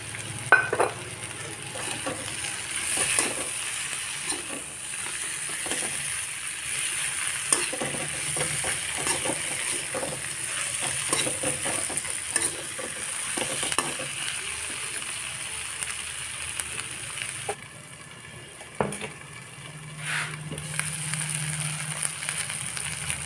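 Chopped tomato pieces frying in a pan give a moderate, continuous sizzle with occasional clicks of stirring, briefly dipping before resuming.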